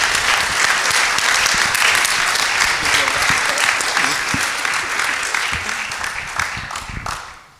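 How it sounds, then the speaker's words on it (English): Audience applause at a university forum, a full, close round of clapping that stays strong for several seconds before fading out quickly at the end. "If we can get another round of applause on that."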